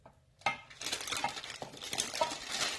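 A spoon clinks and scrapes against a pot while beef stock cube is stirred into hot water for a chicken noodle dish, starting after a brief quiet moment and continuing as repeated close, light metallic knocks.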